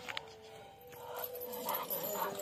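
At a village dog-breeding farm, a dog whimpers and whines faintly, with soft, thin cries over quiet background noise.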